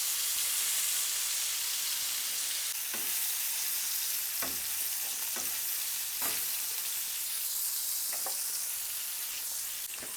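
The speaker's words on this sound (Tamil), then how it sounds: "நான் இன்றைக்கி சின்ன பாத்திரமாக இருக்கிறதுனால ஒரு லெக் பீஸாக தான் ஃப்ரை பண்ணுறேன் நான்." One tandoori chicken leg piece fries in oil in a small pan, giving a steady sizzle with occasional scraping stirs and taps of a utensil, close by and without talk.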